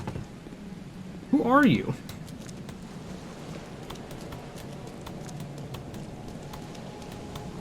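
Steady rain falls in the video game The Sinking City, a soft hiss with scattered drop ticks running throughout, briefly covered by a voice speaking near the start.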